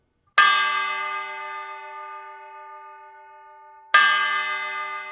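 Two bright metallic strikes on a kkwaenggwari, a small Korean gong, each ringing out with a long shimmering decay; the second hit lands about three and a half seconds after the first.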